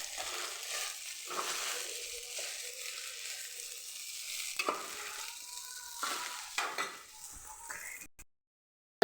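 Potato rice stirred in a frying pan after salt goes in: soft scraping and stirring strokes over a gentle sizzle, close and moderately quiet, with no voices, ending in a sudden cutoff.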